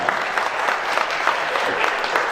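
An audience at a Toyota Veloz touring club event claps loudly and steadily for the whole stretch, a dense, close patter of many hands.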